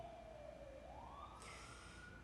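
A distant emergency siren wails, dipping and then rising in pitch, faint over a steady background hum.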